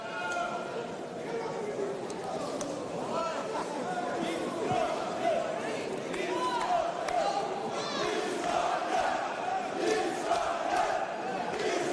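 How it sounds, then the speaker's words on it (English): Uzbek chants rising from a large crowd at a boxing match, a dense, continuous roar of voices with rhythmic shouted chanting, heard from a distance across the arena without a clear commentator voice on top. "Uzbek chants coming from the crowd here at Techport."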